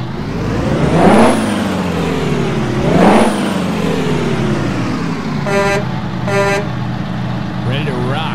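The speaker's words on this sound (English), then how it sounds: "This thing has a 800 horsepower GMC engine in it. I'm going to fire it up for you." An Oshkosh HEMTT A4 military truck's 800-horsepower GMC engine idles close by and revs twice in rising, whining surges. Two short, sharp horn toots follow, then a brief chirp.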